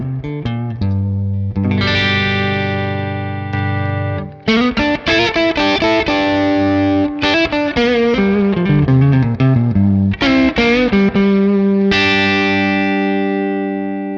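An electric guitar through the boost side of a Revv Tilt overdrive pedal into a clean Fender Deluxe Reverb amp plays chords and ringing riffs with a boosted, slightly driven tone, loud and up close with no talking.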